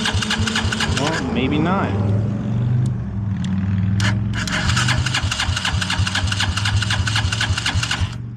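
A 250cc go-kart engine is pull-started, turning over with rough chugging pulses and rising revs, then it fails to stay running, close by, with a voice speaking briefly.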